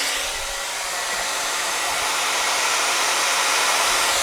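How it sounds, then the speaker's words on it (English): A hair dryer runs off a Bluetti EB70 portable power station while camping, blowing with a steady, loud, even whoosh and a constant motor hum, no voices. "So take your wife camping, bring your hairdryer."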